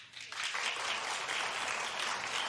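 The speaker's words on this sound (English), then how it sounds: "But clap if perhaps her speech softened you" A talk-show studio audience breaks into clapping, swelling quickly to a steady, full round of applause that carries on to the end.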